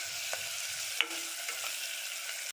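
Onions frying and being stirred in a pan for a mixed vegetable khichdi, a steady soft sizzle with a few faint scrapes and clicks of the spoon, close and continuous, with no talking.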